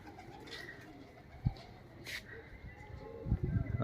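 Pigeons cooing in front of a large new net in a loft or yard, low soft coos rising at moments with a louder burst near the end, close by over a faint background.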